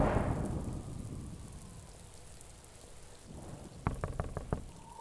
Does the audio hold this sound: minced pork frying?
no